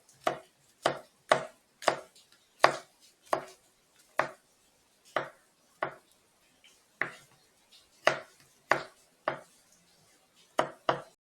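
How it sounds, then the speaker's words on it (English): A knife chops garlic cloves on a cutting board in a home kitchen, about twenty crisp, close knocks falling in uneven bursts and short pauses, with quiet gaps between them and no talking. "I'm gonna go ahead and cut up some garlic cloves."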